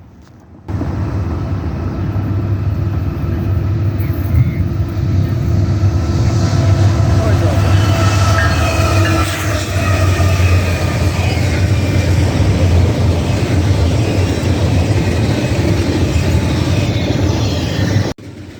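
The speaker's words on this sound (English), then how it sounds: "Next up is a CSX eastbound intermodal train." An eastbound CSX intermodal freight train passes close by as a loud, steady, continuous rumble with rolling wheel and rail noise. It holds for most of the span, with no talk over it.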